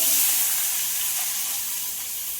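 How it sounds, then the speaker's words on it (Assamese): Finely chopped onions fry in a wok with bay leaves and dried red chillies, giving a steady, close, hissing sizzle that fades slightly toward the end, with no voices. "মিহি মিহিকৈ কটা পিঁয়াজ ভাজি আছোঁ।"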